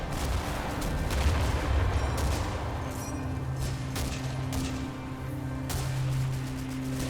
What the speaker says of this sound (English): the Shermans lay down high explosives against the Panzerschrecks, the German infantry gun puts high explosives into my infantry